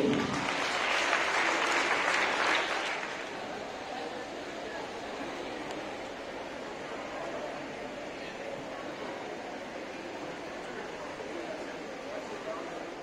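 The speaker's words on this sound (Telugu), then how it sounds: "అందరూ ఒకసారి చప్పట్లు కొట్టండి" An audience at a pen-distribution event in Siricilla breaks into applause. The loud burst of many hands clapping lasts about three seconds, then settles into a lower, steady crowd murmur with a voice faintly underneath.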